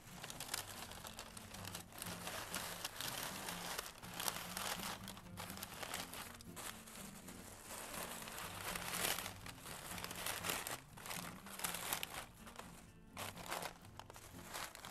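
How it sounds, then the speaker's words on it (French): Black tissue paper crinkles and rustles steadily for the whole stretch as an earring gift is wrapped, a close, continuous papery crackle with short louder bursts and no talking. "Je vais ensuite prendre un papier de soie de couleur noire."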